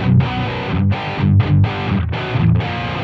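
Heavily distorted metal guitar tone from Amplitube 5 heard through a simulated 87 microphone, tight palm-muted chugging riff with short bursts and abrupt gaps, loud and dense.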